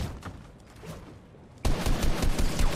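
Rapid bursts of gunfire from Fortnite Mobile on an iPad start abruptly partway through and crackle on densely and loudly to the end, after a quieter stretch of faint game sounds.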